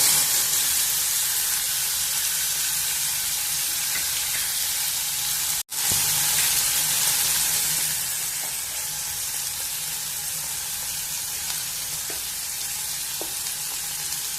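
Tomato pieces sizzle and fry steadily in a pan, a continuous close hiss that briefly cuts out for a moment and then resumes slightly softer, with no talking.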